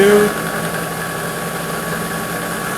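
A WEN 12-inch drill press running at its maximum speed setting, a steady close motor hum and whine with a constant pitch and even loudness, no other sounds over it.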